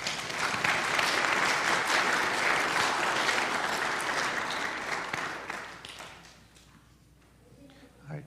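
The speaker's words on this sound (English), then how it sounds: "Let's give them a round of applause." Audience applause for newly awarded Arrow of Light scouts at a Cub Scout Pack 82 crossover ceremony: a full, loud burst of crowd clapping that holds steady for about six seconds, then fades away to near quiet.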